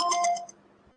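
Phone ringtone going off during a lecture, a short bright chiming melody of several quick notes that fades out within a second, alone with no talk.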